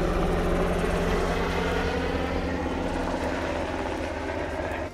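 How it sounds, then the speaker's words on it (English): A helicopter flies over outside a secured naval facility's front gates, a loud, steady engine and rotor drone that holds constant throughout before easing slightly at the end, with no talking. "A helicopter flies over."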